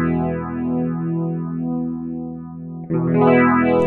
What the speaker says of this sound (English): The modulation section of the Cerberus offers chorus, three different types of chorus, and three different modulation effects.